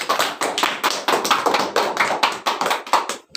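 A classroom of students clapping hands in short rhythmic bursts of sharp taps, repeated groups of claps close and fairly loud with no talking.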